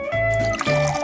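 Liquid for a gelatin dessert is poured into a container, a short close gurgling splash with a slight pause midway, alone.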